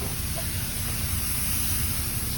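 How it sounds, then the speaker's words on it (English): PermaSafe sanitizer sprayed inside a car, a steady close hiss of mist running without a break. "And so we just spray it exactly the same way."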